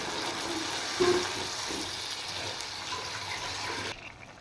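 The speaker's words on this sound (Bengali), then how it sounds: "এবার দিয়ে দেবো আমি জল, পরিমাণ মতো দেবো।" Water is poured into a pan of cooking tangra fish and prawns for a spicy fish curry, making a faint, steady gushing hiss that cuts off abruptly near the end.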